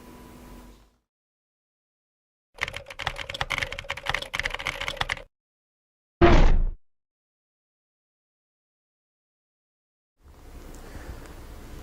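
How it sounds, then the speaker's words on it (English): Fast typing on a Razer Ornata Chroma hybrid mechanical-membrane keyboard, dense close clicking in bursts separated by silences, with one short loud thump partway through. "The Razer Ornata keyboard is one of a kind with hybrid mechanical membrane switches"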